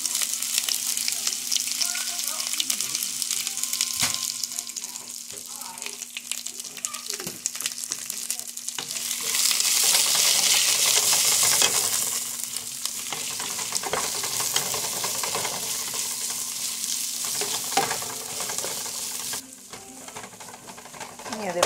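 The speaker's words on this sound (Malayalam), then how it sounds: "ഇനിയിപ്പോൾ നമുക്ക് നമ്മുടെ സവോള അരിഞ്ഞത് കൊടുക്കാം" Chopped onions hiss and sizzle in a hot pan over steady broadband frying noise, with occasional stirring scrapes and a brief louder surge midway, close and continuous for about twenty seconds.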